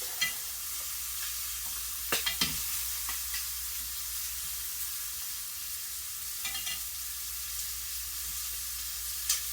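Steady frying sizzle of shrimp throughout, with a few brief clattering bursts as pieces are turned in the pan.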